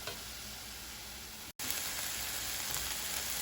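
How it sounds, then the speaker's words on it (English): Ground beef and vegetables brown in a pan, a faint, even sizzling hiss that runs steadily, broken only by a split-second dropout midway. "So now I'm just going to brown the ground beef and cook the vegetables."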